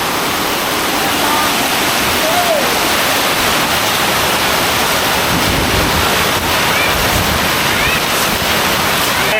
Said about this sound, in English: And when it rains here, it pours.